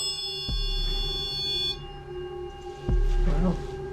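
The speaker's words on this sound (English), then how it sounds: "we have the REM pod, which is already going off" A REM pod ghost-hunting device alarm sounds as a sustained high-pitched electronic tone with layered beeping pitches, broken by two sharp low thumps, with a faint voice in the background.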